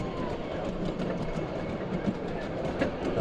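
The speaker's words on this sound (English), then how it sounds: "And the loco will do another run around." A 7 1/4 inch gauge miniature railway locomotive rolls along the track with a steady rumbling clatter and faint rhythmic wheel clicks, moderately close, with no clear talking over it.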